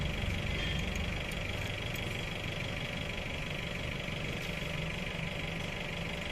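A Honda Shine SP motorcycle engine, clogged with carbon, runs roughly at close range, a steady gritty drone with a faint uneven knock throughout.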